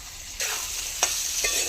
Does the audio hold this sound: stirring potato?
yes